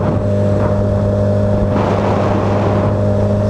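A Suzuki Hayabusa motorcycle engine drones loudly and steadily on a ride, a dense, continuous roar with a slight surge partway through and rushing wind noise layered over it.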